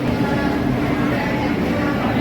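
The Narayanadri Express, running between Tirupati and Lingampalli, is heard from inside as a steady, loud rumble and hum of moving carriages, continuous and unbroken.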